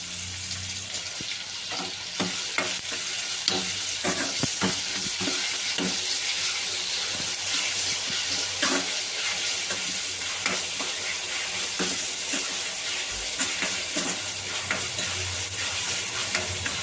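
Onions sizzle and fry in a pan, seasoned with salt, with steady crackling and repeated scraping of a spoon as they are stirred, close and alone without talk.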